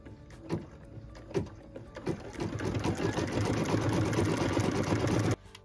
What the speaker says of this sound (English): I'm going to go ahead and let it stitch that decorative outline.